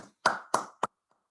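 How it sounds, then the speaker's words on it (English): Three sharp hand claps from a single person at a virtual club meeting welcoming new members, close and isolated, followed by silence. "Now, round of applause."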